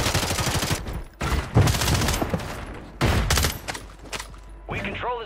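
Video game gunfire during a zone-control match, with loud automatic bursts in several clusters separated by short gaps and a brief voice near the end.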